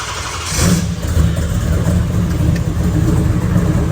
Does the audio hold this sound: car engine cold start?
yes